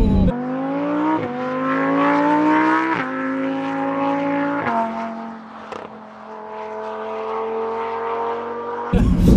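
A Lamborghini accelerating hard down a straight: loud, close engine note climbing in pitch through several gears, with brief dips at each upshift and a strong, continuous roar throughout.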